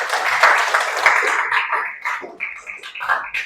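A class gives a round of applause, a bright burst of many hands clapping close by that swells early, then thins into looser, uneven claps and tails off with a murmur of voices.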